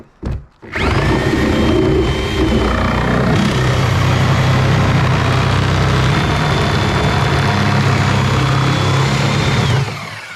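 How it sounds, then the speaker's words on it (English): A reciprocating saw cuts apart the fuel tank of a 2000 Arctic Cat ZR600 snowmobile, running in one loud, continuous buzzing stretch of about nine seconds after a brief start, then stopping. "This tank is junk, so I'm just gonna sawzall it apart."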